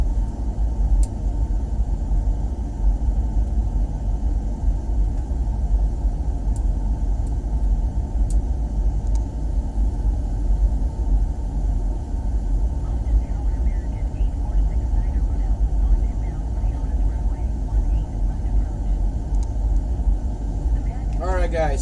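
Steady loud engine and airflow roar fills a Boeing 737 cockpit on landing approach, a dense continuous rumble with faint radio chatter and brief clicks over it.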